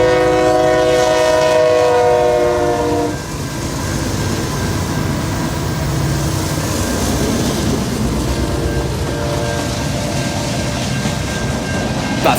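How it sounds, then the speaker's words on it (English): A train horn blasts for a few seconds, then gives way to the steady rumble and clatter of a passing freight train of three switcher locomotives and 47 cars, with another brief horn near the end. "The 3 switcher units are moving 47 rail cars."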